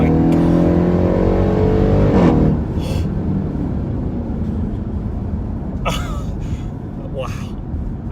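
A Jeep Trackhawk, a high-horsepower mid-size SUV, accelerates hard with a loud, rising engine roar that peaks early and then settles into a steady rush of road and wind noise, with brief voices breaking in.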